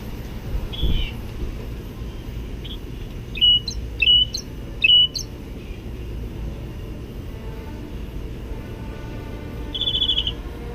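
A wild bird sings outdoors near its nest, giving a few clear, varied high chirps and whistles in short bursts, over a steady background of insect buzz and distant low rumble.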